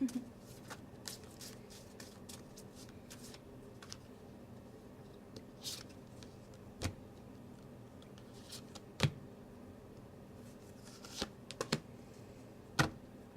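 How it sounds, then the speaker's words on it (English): Tarot cards shuffle softly and quickly close by during a card reading, with crisp riffling and occasional sharper snaps over a quiet room. "I'm quiet because I'm shuffling"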